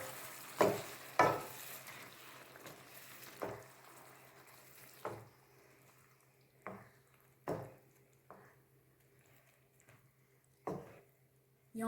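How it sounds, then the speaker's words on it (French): Pasta is stirred in a pan of cream sauce on the stove. The spoon scrapes and clinks in separate strokes every second or so over a quiet, steady hum, with no talking. "Maintenant, on mélange."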